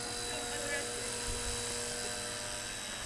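A small helicopter flying nearby gives a steady, whining rotor and motor drone that stays constant throughout at moderate loudness.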